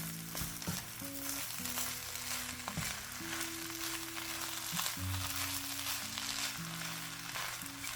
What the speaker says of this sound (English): Now what I'm going to do is basically just stir them into the rest of the rice.